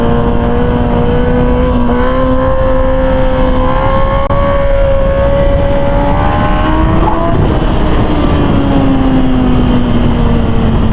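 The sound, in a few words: Suzuki GSX-R motorcycle revving during a wheelie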